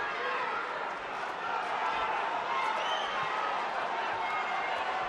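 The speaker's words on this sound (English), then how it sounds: "And the crowd are alarmed" A boxing crowd at the Paul Weir vs. Jacob Matlala WBO minimumweight title fight roars steadily and loudly throughout, a dense, unbroken wall of arena noise with no clear pauses.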